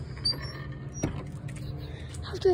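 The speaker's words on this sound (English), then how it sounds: "Let's close the doors." School bus doors in South Peru close with a creaking mechanism, a sharp clunk midway and a squeaking thud at the end, over low background noise.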